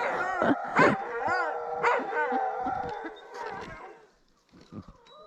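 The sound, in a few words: dogs howling like a wolf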